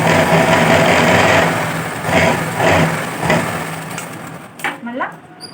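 A sewing machine runs a steady, loud motor whir while stitching the kista seam of a pant, then slows into a few uneven pulses as a voice speaks near the end.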